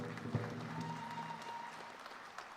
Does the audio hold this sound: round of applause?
yes